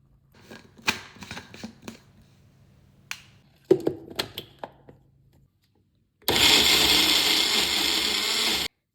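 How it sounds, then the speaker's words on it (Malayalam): Hot chocolate mix with a little water is whirred in a kitchen blender. Scattered clinks and taps come first, then the motor runs loud and steady for about two and a half seconds before it stops. "ഇത് ബ്ലെൻഡ് ആവാനായിട്ട് ഇച്ചിരി വെള്ളം ഒഴിച്ച് കൊടുക്കാം"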